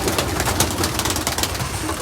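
Birds in a breeding loft, stirred up after being given grit, fill the space with continuous close cooing and fluttering, dense and busy throughout with no pauses.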